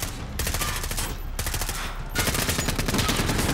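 Sustained automatic gunfire in Call of Duty: Modern Warfare, loud, dense and continuous, with rapid bursts stacking into a fusillade throughout, briefly easing before resuming even heavier.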